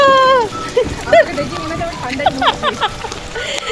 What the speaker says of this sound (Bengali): বিশাল বিশাল জোরে বৃষ্টি নেমেছে